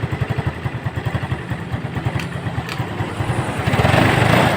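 A motorcycle that keeps burning out its light bulb, fitted with a new regulator, idles loud and close after starting, with a fast, even, throbbing exhaust beat that grows slightly fuller near the end.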